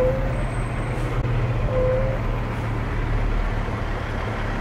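A 1999 Peterbilt truck's engine rumbles low and steady at a distance, mixed with roadway noise, with no voices.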